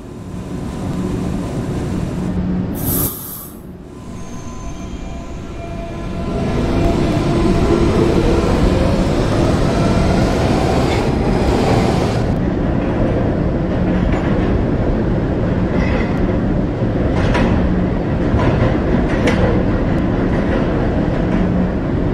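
A B subway train pulls away from a station, a brief high screech and door noise giving way to a loud, building rumble and clatter of cars rolling along the track.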